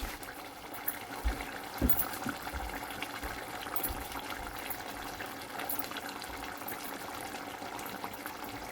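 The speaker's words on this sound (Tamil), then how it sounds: "இப்போ இது நல்லா கொதிச்சிட்டுது" Dried-fish curry simmers in a clay pot in a village kitchen, a steady bubbling wash of boiling liquid with a couple of soft knocks early on, close and moderately loud.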